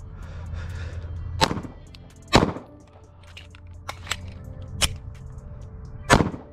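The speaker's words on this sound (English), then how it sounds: "So we're gonna shoot two, reload, shoot one." Gunshots from custom Glock pistols on an outdoor shooting range: four or five sharp, loud reports spaced unevenly over several seconds, with a short pause for a reload between the pairs and faint handling noise in between.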